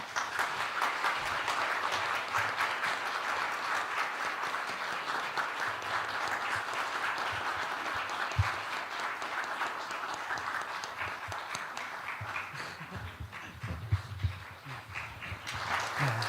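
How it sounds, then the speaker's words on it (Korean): A church congregation applauds steadily during a ten-year service award presentation to a teacher, the clapping softening toward the end, with a few scattered thumps and murmurs. "박수 부탁드리겠습니다."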